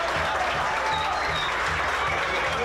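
A stadium crowd applauds steadily as a football player is substituted during a Série A 2024 match between Operário FC and Coxim AC, with dense, continuous clapping and a rhythmic low thumping underneath throughout.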